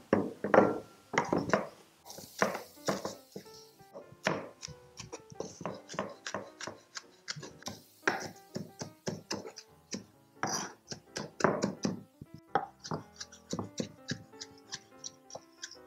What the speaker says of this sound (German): Und jetzt hacken wir das Ganze zusammen.